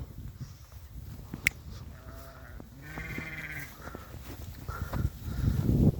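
Beylagan breed sheep bleat on a farm in several wavering, nasal calls, close by, with low rustling and shuffling from the flock underneath.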